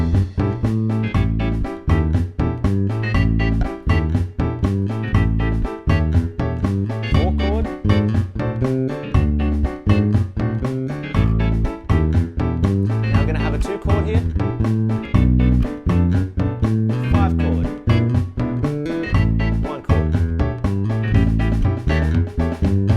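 Blues bass line in a band mix, the turnaround swapped to a two chord moving to a five chord; steady walking bass notes under drums and chords, loud and continuous throughout with no talking.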